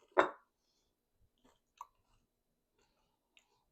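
A bite taken into a vegan bagel bite pizza, one close crisp crunch followed by a few faint, sparse chewing sounds in near silence.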